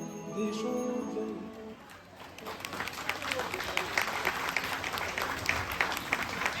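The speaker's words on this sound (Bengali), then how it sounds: "এত আস্তে হাততালিটা" Audience at a cultural group performance breaking into applause, soft and scattered clapping that starts after a sung line and builds into a steady patter, moderately distant.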